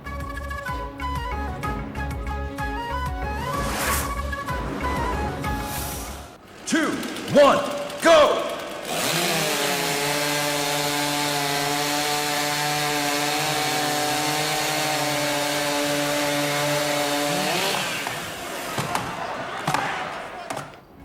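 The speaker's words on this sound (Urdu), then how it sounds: "شرکا نے کلہاڑی آری اور دیگر آلات سے لکڑیاں کاٹی" Chainsaws and axes cutting through logs at a timber sports world championship in Milan, a steady loud engine whine holding for several seconds after rapid chopping thuds, with crowd and arena noise around it.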